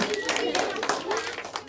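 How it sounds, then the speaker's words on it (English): Classroom of primary pupils clapping for a classmate after a Tudor history presentation, a short burst of scattered hand claps with voices over it. "Give him a clap, that's brilliant."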